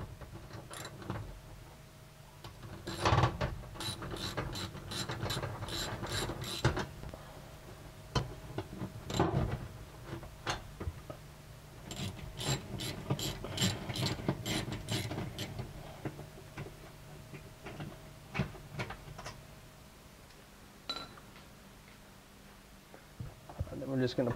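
Mounting bolts are removed from a Frigidaire oven element with a ratcheting tool, giving rapid bursts of sharp ticking clicks up close, with a person talking in between.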